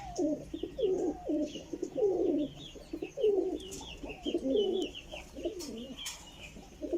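Pair of Sadhna breed pigeons cooing in repeated soft, throaty phrases, close and fairly quiet, with faint chirps from other birds behind.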